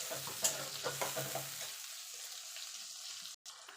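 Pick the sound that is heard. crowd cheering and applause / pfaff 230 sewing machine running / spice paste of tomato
spice paste of tomato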